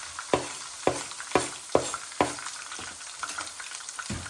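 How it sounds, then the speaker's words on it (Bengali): Sliced onions fry and brown in oil over medium heat for Bangladeshi black beef kala bhuna, a soft steady sizzle broken by five or six sharp stirring scrapes, close and quiet. "লাড়াত রাখবা, পেঁয়াজটা একটু ব্রাউন হয়ে যাও।"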